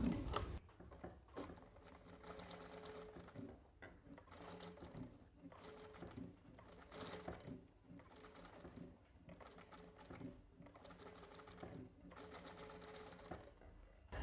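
A sewing machine stitches a cotton silk saree blouse, running in repeated bursts of rapid mechanical whirring separated by short pauses, close and steady throughout.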